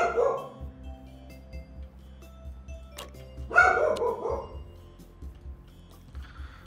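A dog barks in the hospital management video game Two Point Hospital, with two short bursts of barking at the start and near the middle over a quiet game background.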